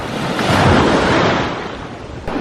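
Ocean waves rolling in by a pier on a beach, a loud close wash of surf building and fading with wind buffeting the microphone, and no talk.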